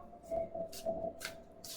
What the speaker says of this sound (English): I know I'm not so good at shuffling this deck.